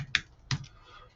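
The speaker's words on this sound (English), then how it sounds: "I want to type in retained earnings" Two separate keystrokes on a computer keyboard during accounting data entry, each a short crisp click with a gap between, set against a quiet room background.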